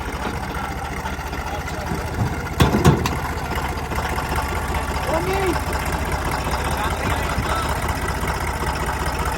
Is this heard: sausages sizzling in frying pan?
no